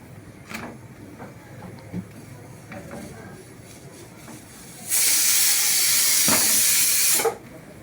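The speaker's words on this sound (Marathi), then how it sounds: "बारीक गॅसवर पराठा खूप छान भाजून घेत आहे मी" A cheese paratha roasting in a pan over a low gas flame, a quiet crackle punctuated by small taps, then a loud, steady steamy hiss that lasts about two seconds before cutting off.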